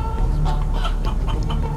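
Chicken clucking in the video game Guacamelee 2, a run of short clucks over game music and background sound, fairly loud and close.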